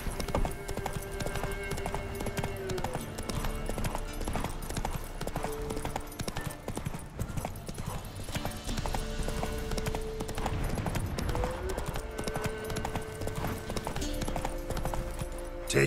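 A horse gallops in The Witcher 3, its rapid clip-clop hoofbeats running steadily throughout over a bed of game music, with a brief voice heard once.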